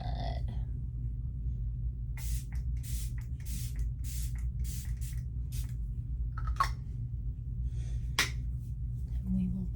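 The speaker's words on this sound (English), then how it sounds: "This is the Lock It In spray." ColourPop Lock It In setting spray with peptides and niacinamide is spritzed in a series of quick, sharp bursts, several rapid pumps in a row, close up over a low steady hum.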